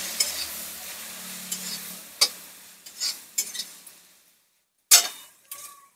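Ground chili paste and a little turmeric, loosened with water, stirred in a pan for a Bengali Jamai Sasthi meal: scraping utensil strokes and a few sharp clinks, close and moderate, quieting toward the end, with no talking.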